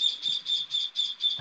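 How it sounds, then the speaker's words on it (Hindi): A parrot calling in the background of an Indian classical music class, a faint, quick series of six evenly spaced high chirps heard alone. "अभी अभी पीछे तोते की आवाज आ रही है जी"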